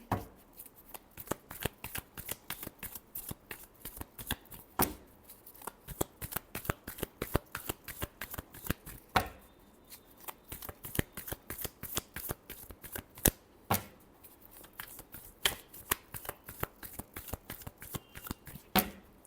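Tarot cards being shuffled by hand in a quiet room, a long run of crisp riffling bursts and flicks with brief pauses, close and clear with no talking.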